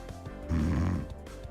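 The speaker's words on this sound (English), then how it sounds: "Closes his eyes, starts snoring." A Pokemon snores in the fan game Pokemon Phoenix Rising, a single short snore sound effect, a low rumbling inhale rising and falling within about a second, clear and close.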